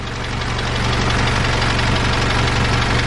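A VW MK7 Golf R engine idles after new spool valves were fitted, a loud, close, steady hum with an even low throb and a faint mechanical chatter underneath, with no talk.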